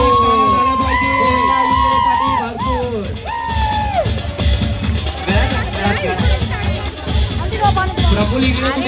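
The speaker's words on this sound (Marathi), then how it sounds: "टाळ्या झाल्या पाहिजे, जोरात झाल्या पाहिजे" A crowd at a Bhim Jayanti dance event whoops, yells and cheers loudly and continuously, with shouting voices rising over a dense, steady wall of noise.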